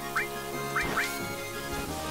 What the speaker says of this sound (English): Stop it, you stupid birds.